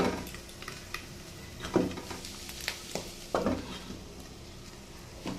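Bitter gourd and potato stir-fried with five-spice seeds in a pan, a low sizzle broken by several distinct scrapes and clinks of a spatula against the pan, close and moderately quiet.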